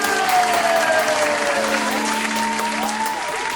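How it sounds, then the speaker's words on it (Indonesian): Congregation applauding for Jesus at a children's worship service, a steady broadband clapping wash running the whole time at even loudness, with a sustained sung or held tone gliding beneath it. "Kasih tepuk tangan buat Tuhan Yesus."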